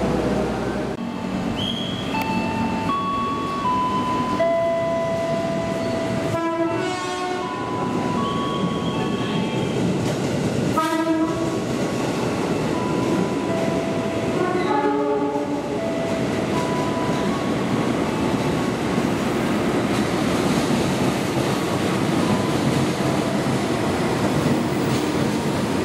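An Argo Cirebon passenger train rumbles past with a loud, steady roar of wheels on rails, as a series of tonal horn blasts sounds at intervals over the continuous rolling clatter.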